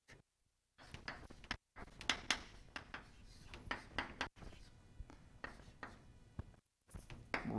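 Chalk or marker taps and scratches on a board during a physics lecture, in quiet clustered strokes with short pauses, faint and close in a room.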